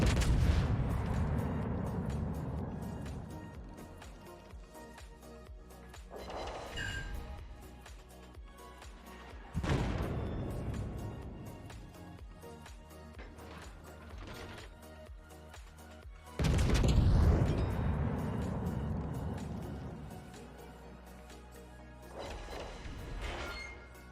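Heavy main-battery salvos from the Tier IX Russian premium cruiser Kronshtadt in World of Warships, three booming crashes spaced several seconds apart, each decaying into a rumbling tail over steady background din, no talk.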